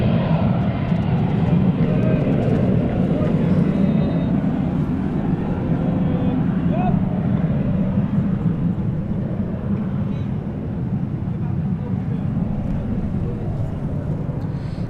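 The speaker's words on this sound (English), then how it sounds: "So that was a Cessna 525B corporate jet. Literally just taken off." A Cessna 525B corporate jet taking off from London City Airport gives a loud, steady, broadband engine roar that holds for about fifteen seconds, heard from a spotting position nearby.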